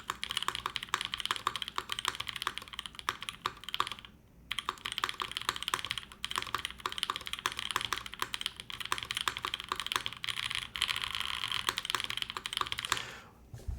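Fingers type steadily on a custom mechanical keyboard, a close, continuous patter of clacky keystrokes with two short pauses and no talk.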